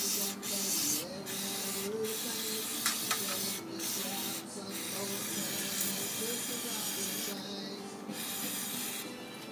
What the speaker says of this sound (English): The whole carburetor, nice spray. Clean up all the dirt, grime off it.